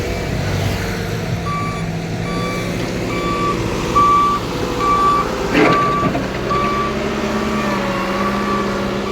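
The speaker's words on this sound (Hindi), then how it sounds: "इसका नाम है रोड रोलर मिक्सचर" A road roller mixer truck reverses at a crossroads, its loud beeper repeating at an even pace over a rumbling engine, with a hiss of air brakes partway through.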